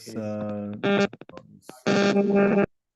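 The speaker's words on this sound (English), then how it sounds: "It's somebody's phone." A nearby phone in a room sounds bright electronic tones in two sustained bursts separated by a short pause and a few clipped beeps.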